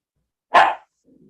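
A dog gives a single short, loud bark close by, followed by a faint low murmur in an otherwise quiet room during a work session meeting.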